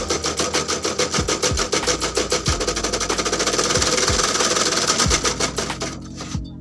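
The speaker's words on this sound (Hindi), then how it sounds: "मैंने आपके सामने सिलाई मशीन चलाई है, इसमें आवाज़ें तरह तरह की आ रही हैं" A faulty, noisy sewing machine runs loudly and continuously with a rapid mechanical clatter and repeated tak-tak thumps, slowing and stopping at the end.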